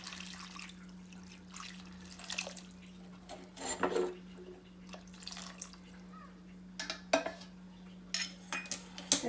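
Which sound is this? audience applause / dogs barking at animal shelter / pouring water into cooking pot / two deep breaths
pouring water into cooking pot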